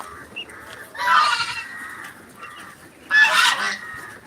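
Ducks honk and quack on a farm, two loud raspy bursts about two seconds apart, close by against a quiet background.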